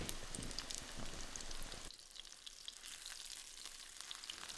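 Chicken breast steaks frying in hot oil in a pan, a steady broadband sizzle that is louder at first, then drops to a quieter, even crackle with scattered pops.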